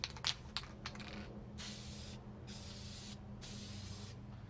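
Spray paint hisses onto a minibike seat during another coat, opening with a few short bursts and followed by longer sustained sprays separated by brief pauses, close and fairly quiet.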